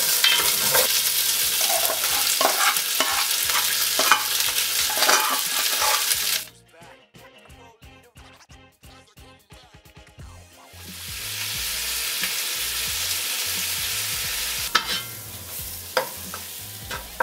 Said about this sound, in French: J'ai remué avec ma farine ma viande en ayant rajouté les oignons